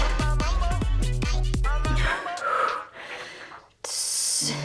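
A forceful exhale during a guided breathing exercise in a workout class, arriving as a sharp breathy rush near the end, after a stretch of rhythmic bass-heavy music that fades into quieter background noise.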